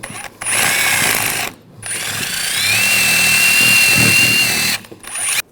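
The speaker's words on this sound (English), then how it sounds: "I'm just going to use a wire brush." A wire brush scrubs rust and corrosion off the pad seat of a front brake caliper bracket on a 2007-2013 BMW 328i, giving long, loud, steady rasping bursts close by with two short pauses.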